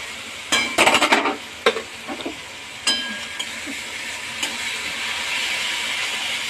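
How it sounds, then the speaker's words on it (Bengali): Tomato paste with ground coriander and cumin stirred and fried in a pan, a quick cluster of clattering spatula scrapes early on, then scattered stirring knocks over a soft, steady sizzle. "নাড়াচাড়া করে ভালো করে ভাজতে হবে"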